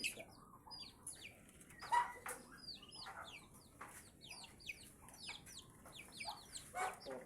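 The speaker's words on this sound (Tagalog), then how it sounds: "native chicken, yung mga native na manok." Native chickens clucking repeatedly among Muscovy ducks and newly hatched ducklings on a farm, a busy close chorus of short clucks and chirps with occasional louder calls over low background noise.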